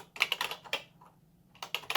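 Quick bursts of keystrokes clatter on a Tandy Color Computer 3 keyboard, pausing briefly in the middle before a final flurry of taps.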